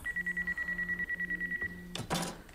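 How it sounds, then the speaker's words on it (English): A phone rings in a horror movie scene, a steady repeating electronic trill in short even bursts, fairly quiet, ending in a brief louder clatter, with no talking. "Why did everyone just freak out when her phone rang?"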